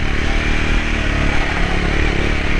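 A Triumph Scrambler 400 X motorcycle engine drones steadily and close while the bike is ridden through the countryside, with rough wind and road noise mixed in.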